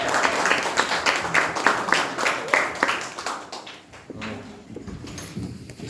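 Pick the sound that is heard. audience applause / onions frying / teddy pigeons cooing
audience applause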